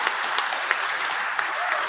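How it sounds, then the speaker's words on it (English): A crowd at a graduation ceremony applauds with a dense, steady patter of many hands, fairly loud and even throughout, with some voices mixed in beneath. "So a round of applause for that"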